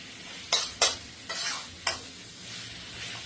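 Offal stir-fried with holy basil in a hot pan sizzles steadily while a spatula scrapes and clanks in four or five sharp, close strokes.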